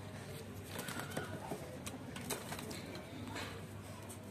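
Pigeons released from a net coo softly in low, repeated murmurs, with faint rustling and the occasional flutter of wings nearby.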